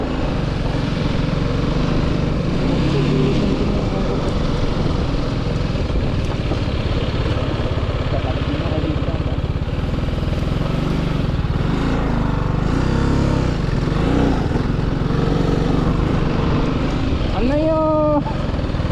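A TVS sport adventure motorcycle rides off road, its engine droning steadily and fairly loud the whole time while people talk over it.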